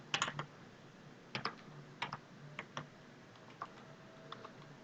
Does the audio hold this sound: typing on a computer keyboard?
yes